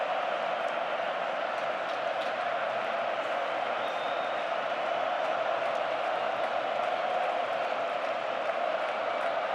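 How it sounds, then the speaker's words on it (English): Barcelona football fans roar in a packed stadium during the Copa del Rey final against Real Madrid, a continuous loud crowd wash that holds steady throughout. "Once again, the Barca fans cheer ecstatically."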